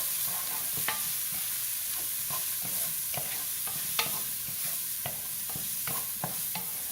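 Fresh squash sautéing with onion powder, garlic and parsley, a steady sizzle of frying under repeated clinks and scrapes of a utensil stirring in the pan, with no talking.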